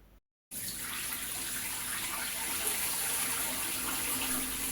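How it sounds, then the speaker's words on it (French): Water pours steadily into a basin of sieved cassava paste, a continuous broadband splashing stream that starts after a short gap and stays fairly loud throughout, with no talking. "Il faut jeter de l'eau tout doucement pour ne pas perdre la farine blanche au fond de la bassine."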